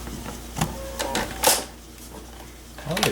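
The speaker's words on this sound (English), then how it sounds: "it opened the tray for me." A PC optical drive tray slides open with short mechanical whirs and clicks, close and moderately loud, amid faint room noise and a bit of quiet talk.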